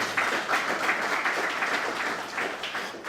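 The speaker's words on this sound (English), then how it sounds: "a round of applause" Steady audience applause at an evening lecture event, a dense wash of many hands clapping continuously at moderate distance, fairly quiet and unbroken throughout.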